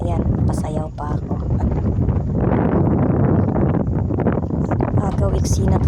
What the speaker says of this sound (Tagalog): Agaw eksina talaga yung lakas ng hangin guys.